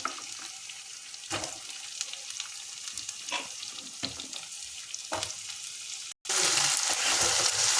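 Potatoes and onion fry in a pan with a steady sizzle, broken by a few scraping stirs, and the frying grows louder and hotter near the end with no one speaking.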